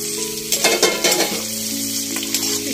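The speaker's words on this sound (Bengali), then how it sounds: "এবার ক্যাপসিকামগুলো দিয়ে হালকা ফ্রাই করে নেব।" Capsicum, beans and other vegetables fry in a hot pan for simui upma, giving a loud, continuous sizzle close by, with a few quick stirring scrapes and clinks of a spoon against the pan and no talking.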